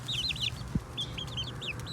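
Big hens and little chicks forage together on a small farm, giving faint, quick high-pitched clucks and chirps in short runs. One soft thump sounds midway.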